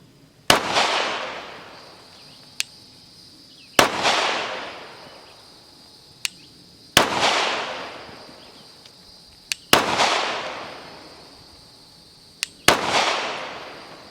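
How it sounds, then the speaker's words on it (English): Five sharp gunshots from a Gen 2 Glock 17 9mm pistol, spaced about three seconds apart, each a loud crack with a ringing outdoor echo, with faint distant pops between them. "we shot 500 rounds through the Gen 2 Glock 17"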